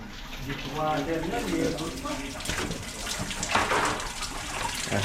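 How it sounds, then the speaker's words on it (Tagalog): Water running steadily from a tap into a kitchen sink during washing at a building project, a continuous close splash with people talking over it. "Diretso hugas pala yan, Obin ah."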